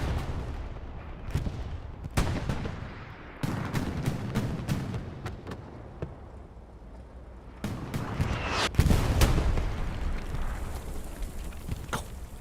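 Rocket fire and explosions in the WWII video game Hell Let Loose on Utah Beach, with heavy booms and cracking shots at irregular intervals, some close and loud, others distant, over a rumbling battlefield.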